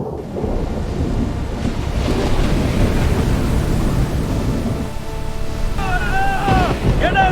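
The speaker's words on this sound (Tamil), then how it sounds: "பெரிய கடல் அலைகள் எழும்பி கப்பலை நொறுக்க பார்த்தன." Large waves heave in a violent storm at sea around a ship, a dense, continuous roar of surf and wind with deep rumbling, while faint shouting voices rise near the end.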